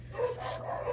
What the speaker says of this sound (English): if they continue barking outside